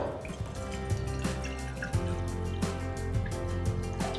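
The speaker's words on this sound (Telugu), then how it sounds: "ఒక చిన్న పాట్లో నేను కొద్దిగా నీళ్ళు పోస్తున్నాను" Water pours and trickles into a small pot while cooking khara bath, with light dripping splashes, close by, over a low steady hum.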